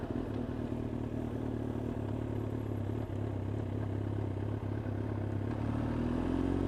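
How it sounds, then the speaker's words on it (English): A 2007 Yamaha R6S engine lugs and groans at low speed in too high a gear, a steady, dense, low rumble heard from the rider's position with no talk. "You are going way too slow for this gear, so I am going to groan at you."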